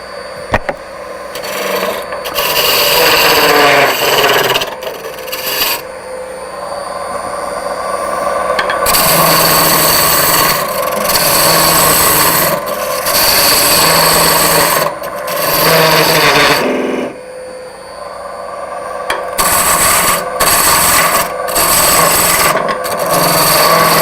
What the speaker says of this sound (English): And use our roughing gouge again to waste away these 2 ends.